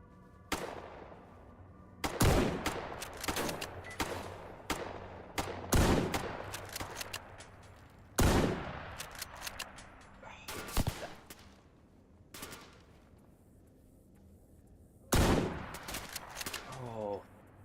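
Mosin rifle gunfire in S.T.A.L.K.E.R. GAMMA comes as loud, sharp, widely spaced single shots, each with a ringing tail, along with fainter scattered shots and bursts between them.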